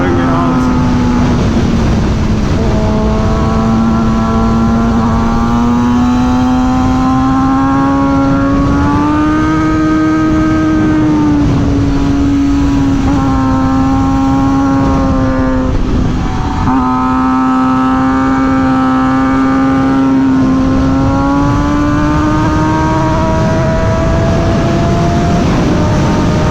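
A Suzuki GSX-R 600 sport bike engine drones steadily and loud for the whole stretch, pitch rising and dipping through several revs, with heavy wind noise and a voice underneath.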